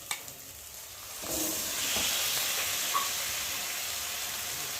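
Chicken sizzles loudly in a hot pan as masala is poured in, a sudden burst of hiss that stays steady, with a few soft clinks at the start.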